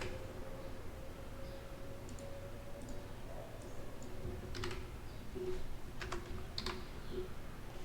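A computer keyboard is pressed to enter the Ctrl F shortcut, giving a few quiet, scattered key clicks over a low room hum with no speech.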